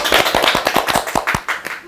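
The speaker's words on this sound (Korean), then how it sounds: "박수!" A short burst of brisk hand clapping from a few people in a studio interview setting, quick and close with uneven rhythm.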